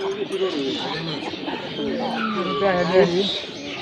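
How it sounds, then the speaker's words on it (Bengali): Pigeons coo at a weekly village pigeon market in Nagarpur, their soft repeated calls mixed with crowd chatter and nearby talking. "এখানেও দেখেন কবুতর আছে বেশ অনেকগুলা"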